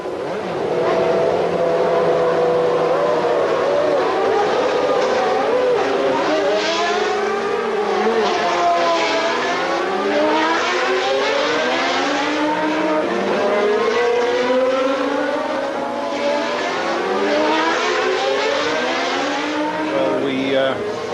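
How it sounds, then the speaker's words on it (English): Several McLaren race car engines roar and rev at once on the grid at the start of a warm-up lap, pitches climbing and sweeping as the cars pull away, loud and continuous throughout. "As all the other cars move off on the warm-up lap, Michael's car coughs briefly into life"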